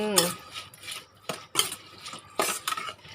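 Squid and shrimp salad being tossed with sliced onion and spring onion, utensils clinking and scraping against a bowl in several quick bursts, close and fairly loud with no talking.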